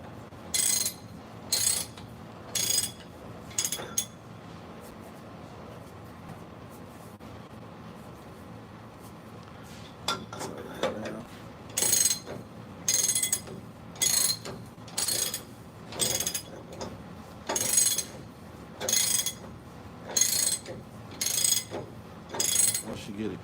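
Socket ratchet tightening a wheel hub: repeated short bursts of rapid clicking, close and crisp, in two runs separated by a quieter pause, with a steady rhythmic back-and-forth pattern.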